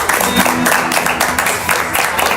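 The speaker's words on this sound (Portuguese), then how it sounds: "Vamos dar uma linda salva de palmas para eles." A church audience gives a warm round of applause, moderately loud clapping with a few overlapping voices and crowd murmur mixed in, swelling and easing over a couple of seconds.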